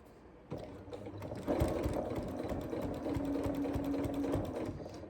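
A sewing machine stitches scrap fabric, first a few slow hand-cranked stitches, then a steady rapid run of quiet mechanical clatter with a faint hum, no voices.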